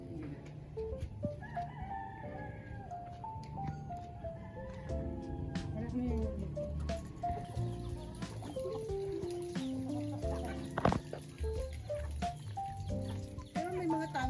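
Neighbours' chickens at a rural home in the province cluck and crow repeatedly, with layered calls rising and falling close by over a quiet morning background.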